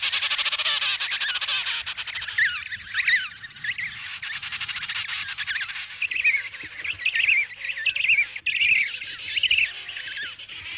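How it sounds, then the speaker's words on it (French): Dense chorus of emperor penguin calls as parents sing at the edge of a crèche to find their chicks, continuous overlapping trumpeting and warbling cries filling the whole stretch, loud and close with no talk. "À leur retour, les parents chantent devant les crèches jusqu'à ce que leurs poussins se manifestent."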